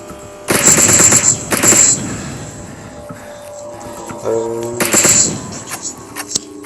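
Rapid automatic gunfire in the zombie shooter Into the Dead 2, with two loud sustained bursts, a pause with game tones, then another burst and a few scattered shots, close and dominant.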